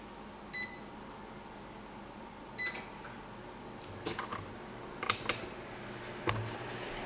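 An oven's control panel gives short electronic beeps while it is set to preheat at 350°F, a handful of single chirps among soft button presses and clicks, close and clear over a quiet room hum with no talking.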